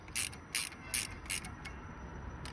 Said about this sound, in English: when tightening these bolts down, always use a star method